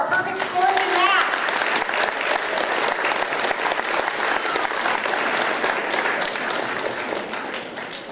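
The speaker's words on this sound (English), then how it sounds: "Let's give another round of applause for our perfect scores in math." A school board meeting audience claps steadily for students with perfect math scores, a dense, sustained round of applause that starts strong and slowly tapers, with a brief voice or whistle near the start.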